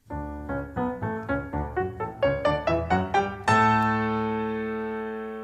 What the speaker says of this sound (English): In Opus 10, No. 3, Beethoven helps us to hear the interval because he fills in all the notes